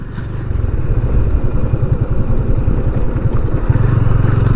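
Motorcycle ridden slowly over a broken, potholed road, its engine thudding in a close, steady low putter with rattling clatter throughout.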